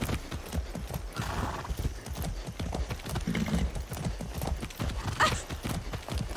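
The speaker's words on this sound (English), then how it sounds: "It's a horse." In the video game Far Cry 6, hooves clop in a quick rhythm while a horse whinnies loudly, all close and clear with no speech.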